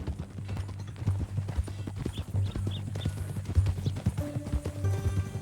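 Horse hooves clip-clopping at a steady walking rhythm in Red Dead Redemption 2, moderately close under light game ambience, with a faint musical tone entering near the end.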